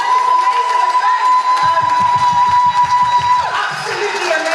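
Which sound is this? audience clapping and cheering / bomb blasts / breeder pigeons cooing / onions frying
audience clapping and cheering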